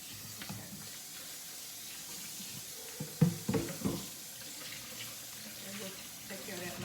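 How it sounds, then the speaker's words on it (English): Kitchen tap water runs quietly as a bowl is rinsed out, a soft steady flow with a short burst of clattering and splashing midway. "Now I'm going to rinse this bowl out."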